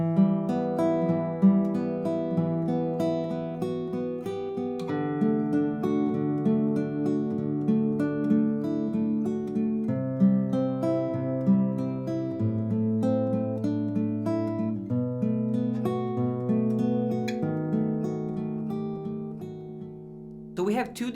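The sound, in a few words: guitar fingerpicking a Spanish melody within chords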